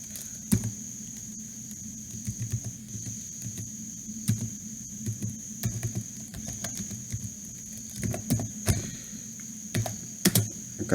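Computer keyboard typing text into a Microsoft Excel spreadsheet, with irregular bursts of close key clicks and pauses between words over a steady faint background hum.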